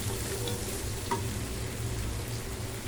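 Vegetables fry in a pan for veg fried rice with a continuous, fairly loud sizzle and a light scrape or two from stirring, with no talking.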